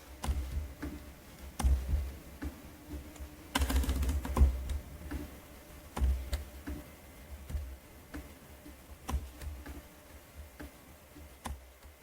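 Typing on a computer keyboard, quiet scattered key taps and clicks in irregular short runs with pauses between, close and faint, no talking.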